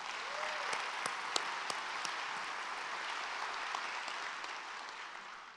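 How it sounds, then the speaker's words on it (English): Steady, sustained applause from a large audience at the Long Beach State of the City 2016 address, even and somewhat distant throughout, with a few sharper claps standing out. "A great accomplishment, and let's give them a round of applause."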